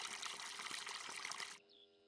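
Water gushing from a spout into a bucket in Farming Simulator 19, a steady bright hissing pour that stops abruptly near the end, leaving only a faint ambient tone.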